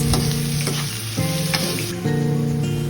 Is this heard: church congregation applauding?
no